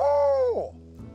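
A man imitates an old hoot owl call, a single drawn-out hooting tone that bends downward and fades, loud and close outdoors in a valley.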